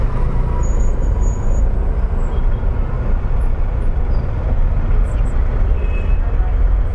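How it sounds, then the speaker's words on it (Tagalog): Heavy road traffic with buses and trucks rumbles steadily and close by in a continuous dense wash of engine and road noise, with faint brief hisses and no clear voices. "Grabe yung traffic, sobrang traffic guys."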